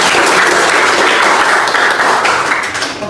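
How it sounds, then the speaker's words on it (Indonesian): Audience at a session about marga genealogy clapping, a loud, dense burst of applause from a close crowd that holds steady and starts to fade near the end. "Mari kita beri tepuk tangan."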